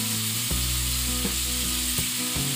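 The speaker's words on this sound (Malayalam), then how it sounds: "നല്ലൊരു ബ്രൗൺ നിറമാകുന്നത് വരെ നമ്മുടെ ഉള്ളിയൊക്കെ ഒന്ന് വഴറ്റിയെടുക്കണം" Onions sautéing in a pan for chicken thoran, a steady close sizzle and fry with occasional stirring scrapes, no talk.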